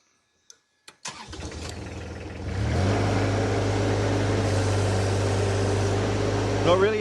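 A compact mini machine lifting nearly 600 kilos during a lift test: two sharp clicks, then the engine cranks and catches, rising to a steady, loud working-rate drone that holds without a full rev.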